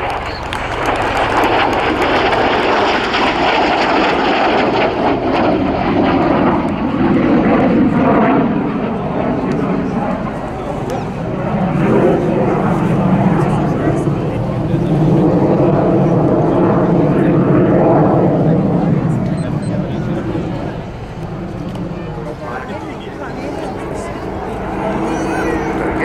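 Royal Air Force Battle of Britain Memorial Flight vintage aircraft fly past at the RAF Cosford Airshow, piston engines droning loud and sustained with rising and falling pitch, and a commentator talks over it.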